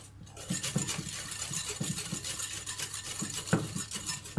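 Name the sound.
whisking eggs and sugar together for cake batter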